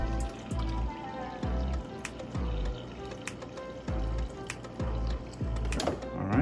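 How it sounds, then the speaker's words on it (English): Filtered water from a refrigerator dispenser pours into a glass in repeated short bursts, each spurt followed by a brief pause, with a faint hum underneath. "we will fill this glass with water from the fridge that's been filtered"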